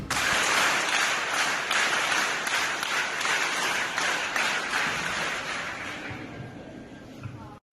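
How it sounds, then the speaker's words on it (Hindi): Schoolgirls clap together in loud, dense, sustained applause at a protest over a school transfer in Ujjain, Madhya Pradesh, with no talking and the clapping easing slightly toward the end. "देखिए किस तरह से वो ताली बजाते हुए नजर आती हैं।"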